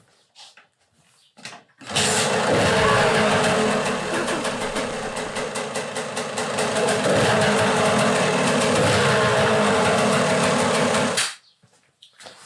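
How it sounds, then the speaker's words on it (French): An old, neglected KTM motorcycle bought as a wreck for restoration starts after a brief pause and runs loudly and steadily with a throttle blip partway through, then cuts out. "Donc je vous propose un dernier démarrage. Ça fait toujours plaisir. Une petite odeur de temps, là. Un petit coup de gaz."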